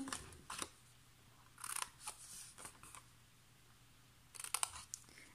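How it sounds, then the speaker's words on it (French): Scissors snip along the short edges of a paper card easel box, bevelling them in a few quick, crisp cuts with quiet pauses between bursts, close by. "on va avec le ciseau venir biseauter légèrement les petits côtés"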